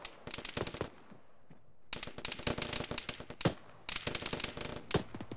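Video game gunfire in a ShackTac military simulation, with three long bursts of rapid automatic fire separated by short pauses, loud and close with no voices.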